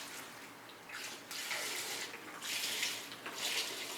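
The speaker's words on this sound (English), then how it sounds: "So then we'll just add our beef stock." Beef stock pours into a soup pot for cheeseburger soup, a soft splashing liquid stream that comes and goes in a few bursts, fairly faint and close by.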